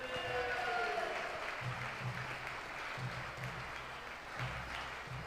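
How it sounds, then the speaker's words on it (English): Applause for the Gilbert Pipe Band rolls from an audience at a sports-hall cup event, a steady moderate clatter of many hands heard from some distance, with a low droning hum underneath. "A round of applause for the Gilbert Pipe Band."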